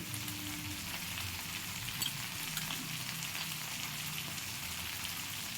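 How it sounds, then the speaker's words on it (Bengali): A ground paste of white mustard, black mustard and cumin hits hot oil for a khoyra fish jhal, setting off a steady, dense sizzle that holds evenly throughout, with no voices. "সাদা সর্ষে কালো সর্ষে আর জিরে বেটে রেখেছিলাম সেই পেস্টটা দিয়ে দিচ্ছি"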